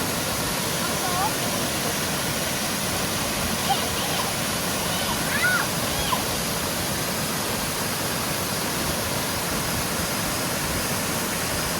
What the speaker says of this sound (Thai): น้ำตกสวยจังเลย